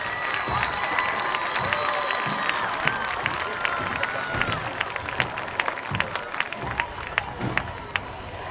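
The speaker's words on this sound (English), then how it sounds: "Let's give a round of applause to all the homecoming candidates." A crowd at a high school homecoming event in Junction City applauds the homecoming candidates with sustained clapping and some cheering and shouting, steady throughout.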